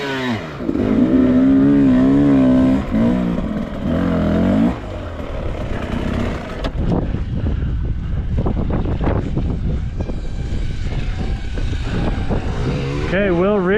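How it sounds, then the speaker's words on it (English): Off-road race truck at the Donner MaxCam event revving under throttle on a steep rocky obstacle, a loud fluctuating engine roar with wind buffeting and a commentator talking over it. "Ryder's just gonna give him more throttle, baby."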